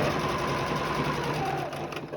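A plain Singer tabletop sewing machine stitches steadily across a quilt block line, its motor whirring in a continuous even hum that eases slightly near the end.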